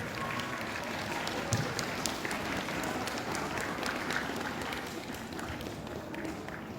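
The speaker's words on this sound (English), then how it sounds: "Children, please give a big round of applause for your friends." Children at a school investiture ceremony applaud in a hall, a quiet, distant patter of many hands holding steady for several seconds.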